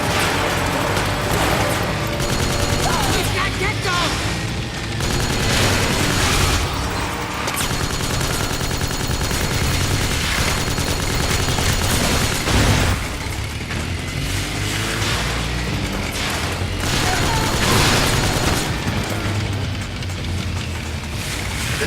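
Patriot rifle fire in Metal Gear Solid 4 rattles in long, dense automatic bursts with booming impacts, loud and nearly continuous under a busy battle soundscape.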